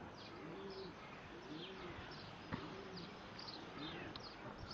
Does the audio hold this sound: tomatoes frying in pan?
no